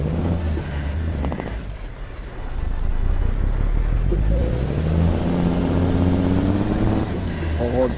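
Engine of a Kenworth T600 truck in American Truck Simulator, a steady low drone that swells louder and holds strong, running under someone talking throughout.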